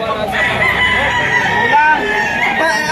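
Young gamecock stag crowing at a rooster auction, a loud drawn-out crow close by over a dense backdrop of other fowl and crowd chatter.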